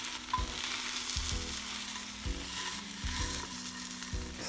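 Tamagoyaki, a Japanese rolled omelet, sizzles steadily in a pan, a close, continuous frying hiss broken by a few soft scraping bumps as the egg is turned.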